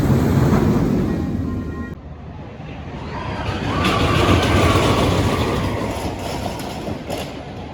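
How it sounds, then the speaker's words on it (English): A large roller coaster train at Blackpool Pleasure Beach clanks and rumbles noisily up its lift hill, a loud, steady mechanical drone that swells midway, heard outdoors at fairly close range with no talking. "the big one, which is noisily making its way up the lift hill"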